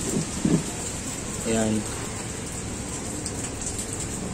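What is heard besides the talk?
rain falling outdoors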